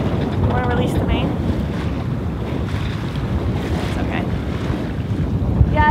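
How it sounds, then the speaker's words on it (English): A sustained gust of wind roars over the microphone aboard a sailboat moving upwind, with water rushing along the hull and faint voices in the background. "There's a gust."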